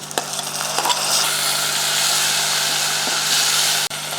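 Onion and tomato fry in a pan as the base for a chicken soup, giving a steady, close sizzle with a few stirring knocks near the start and a sharp scrape near the end.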